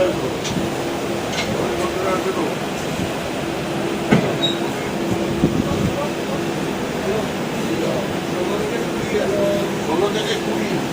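A passenger train with full AC chair car coaches rumbles steadily from inside a compartment, with clanks and rattles now and then, while people talk over the noise.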